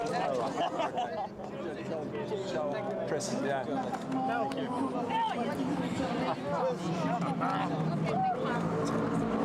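Mercedes GT race cars cross the finish line at the Paul Ricard circuit during a Blancpain Endurance Series race, their engines droning steadily at mid distance under continuous commentary.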